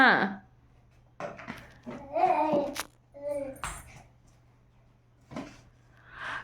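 A toddler's voice imitates a dog's bark in short bursts between pauses, with an adult talking and occasional soft household knocks nearby.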